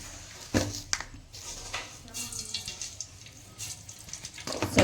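Cumin and mustard seeds spatter and pop in hot oil for tamarind-based bartha, a steady fizzing sizzle punctuated by sharp crackles, close and fairly quiet.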